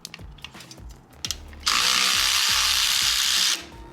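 A power tool spins out a 1/2-inch bolt on the crossover pipe of a Harley-Davidson Road Glide exhaust. Faint mechanical taps come first, then a loud, steady whir runs for about two seconds and cuts off. No one speaks.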